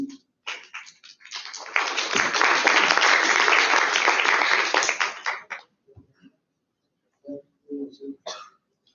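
An audience at a veterinary students' congress bursts into applause, building quickly to a dense, loud wash of clapping that holds for several seconds and then thins out. Scattered single claps and brief murmurs follow in the quiet.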